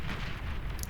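Artillery shells pound down in the real-time strategy game Beyond All Reason, a dense, continuous rumble of blasts and bursts with a brief brighter crackle near the end, no voice over it.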